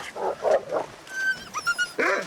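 A wolf in The Long Dark video game giving a few short, sharp barks, followed by thin whining yelps and another bark, close and clear without speech.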